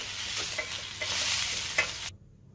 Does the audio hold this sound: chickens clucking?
no